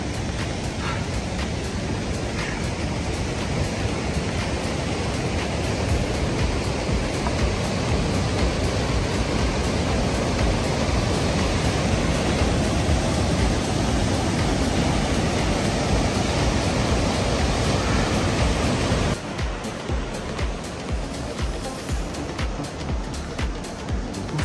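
A mountain river near Tsho Rolpa Lake in Nepal rushes loudly and steadily, a broad unbroken roar of water throughout with no talk.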